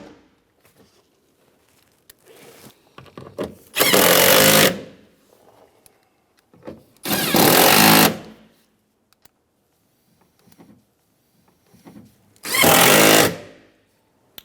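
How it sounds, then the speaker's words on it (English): A power tool drives bolts back into the rear door of a 2007-2015 Mazda CX-9 in three loud bursts of about a second each, separated by quieter handling clicks and rattles. "now we can start to reinstall our bolts here."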